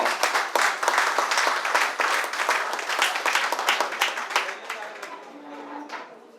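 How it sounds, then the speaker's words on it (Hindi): An audience at a hotel gathering claps heartily to welcome Mr. Raju Bhai, with sharp, quick hand claps that stay strong and then taper off toward the end. "जोरदार ताली हो जाए इनके लिए।"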